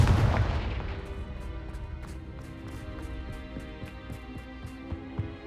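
Confringo spell explosion in the Hogwarts Legacy video game, a loud booming burst at the start that decays into a long rumbling tail, followed by a few fainter sharp impacts.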